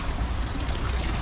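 Water streams steadily into a plastic bag for carrying fish to a pond, a continuous close, loud gushing pour with no pauses.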